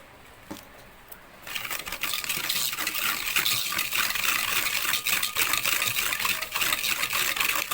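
Eggless red velvet cupcake batter with sugar, vanilla essence and red colouring being mixed, a steady close swishing and rattling that starts after a brief quiet moment and continues without pause to the end.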